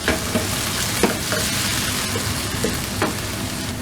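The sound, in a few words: chopped tomato cooking in a pan for prawn curry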